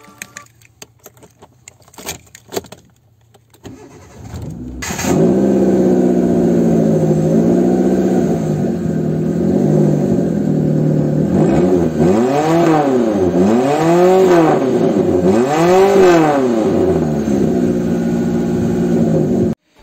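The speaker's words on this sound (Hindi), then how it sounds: "उसका साइलेंसर का अपने जो स्टॉक साइलेंसर का उसका मैं एग्जॉस्ट नोट सुना देता हूँ" A Hyundai Santro Xing's stock silencer gives a steady mid-pitched exhaust drone with several rising and falling revs near the end. A few clinks come before the engine note starts.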